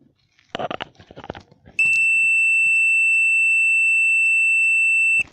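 A multimeter on continuity test gives a loud, steady high-pitched beep lasting several seconds as it checks a wire, following a few moments of speech.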